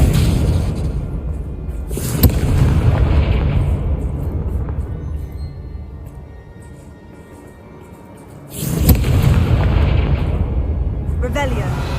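Confringo fire spell blasting in Hogwarts Legacy on PS5, a loud rumbling explosion with sharp bursts near the start and a second heavy blast later, sustained roaring boom without talk.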